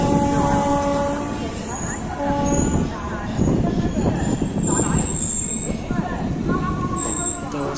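An Ambala Kalka passenger train at a station in Ambala, a loud close rumble of rolling wagons with squealing wheels and horn-like tones, while someone talks over it.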